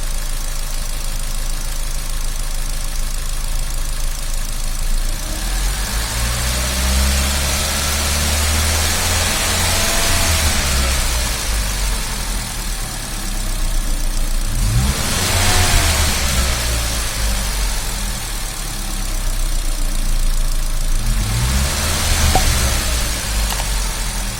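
A warmed-up Ford Figo engine idles and revs steadily, a loud continuous mid-pitched drone that swells with throttle blips around the middle and near the end, with no voices.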